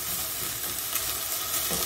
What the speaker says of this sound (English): And then I'm going to add the carrots. Right, I've added the carrots. Give them a stir in.